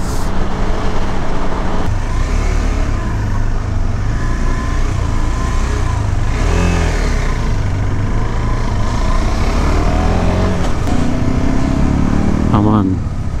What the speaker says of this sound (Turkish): Hemen vites düşürüyorum.